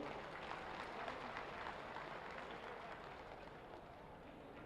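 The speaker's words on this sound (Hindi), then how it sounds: "जोरदार तालियां बजाइए आप लोग।" Crowd at a mass wedding ceremony for thousands of couples in Ayodhya applauding, a dense, steady wash of clapping that holds at a moderate level for the whole stretch and fades slightly toward the end.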